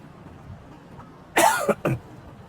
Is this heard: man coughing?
yes